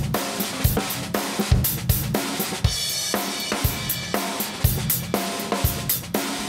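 Dense, squashed drums from a heavily parallel-compressed chain pound steadily, the hits flattened and loud with cymbals smeared into a constant wash between beats.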